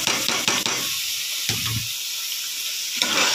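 Masala spices sizzle and hiss in a hot pan, a loud close frying crackle with a few stirring scrapes, steady throughout with no talking.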